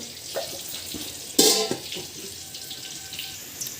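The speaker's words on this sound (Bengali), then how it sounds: "অল্প একটু জল দিয়ে দিলাম দেখো" A small splash of water hits a hot pan of shahi paneer curry, a brief bright burst of sizzling over a low background hiss, then quieting, with no talking.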